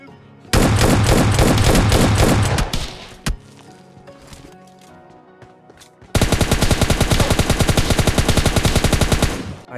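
Loud close automatic gunfire in PUBG Mobile Lite, a two-second sustained burst, a quieter stretch with a single sharp shot, then a long rapid rhythmic burst of evenly spaced rounds.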